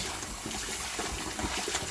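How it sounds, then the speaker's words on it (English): Warm water runs over raw meat as it is washed thoroughly for Jamaican stew peas, a steady close splashing and tap flow with broadband hiss filling the whole stretch. "let me show you how I'm gonna have to wash it thoroughly. Warm water."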